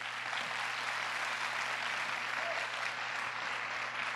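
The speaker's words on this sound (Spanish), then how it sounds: "Den un aplauso fuerte a Jesús." Church conference audience applauding for Jesus, a steady wash of clapping heard from a distance with a faint hum underneath, even and sustained.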